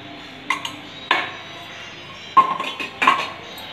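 A metal kadai pan clanks and bumps as it is set on a stove, a handful of sharp knocks spaced unevenly, close by with no talking.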